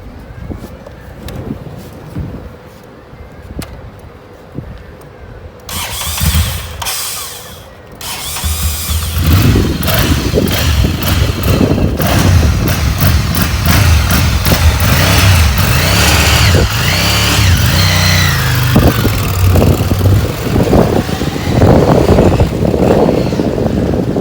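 A Ducati Monster 696 motorcycle fires up, its engine rising from quiet mechanical clicks into a loud, continuous close roar with revving as it pulls away and rides.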